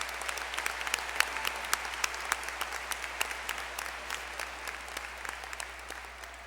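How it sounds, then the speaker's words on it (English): An audience at a high school graduation ceremony claps steadily, a dense even patter of many hands that carries on without a break, with no talking over it. "Please join me in giving these outstanding citizens a round of applause."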